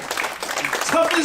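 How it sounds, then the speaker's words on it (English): Brief applause from a comedy show audience clapping for the parents in the crowd, steady and close, with a voice talking over it. "Give yourselves a round of applause."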